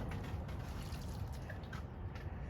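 Water poured from a can or hose onto potted tomato plants in a greenhouse, a steady close splashing and trickling into soil that runs on without a break and without voices.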